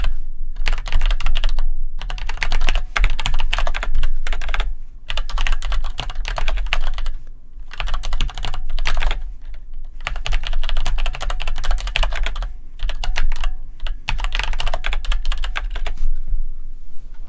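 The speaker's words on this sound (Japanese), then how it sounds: "今回売ってたこれ、レーザーのキーボードのオレンジ軸なんですけど" Continuous typing on a Razer mechanical keyboard with orange switches, dense clacking keystrokes in bursts separated by short pauses, close and loud, with no voices.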